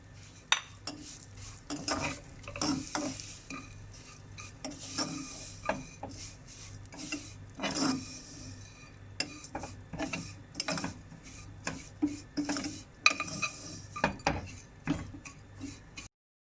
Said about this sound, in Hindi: इसी बचे हुए घी में हम सेवई भी फ्राई कर लेंगे।